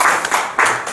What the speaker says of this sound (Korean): 우리 지도자들 자축박수 한번 칩시다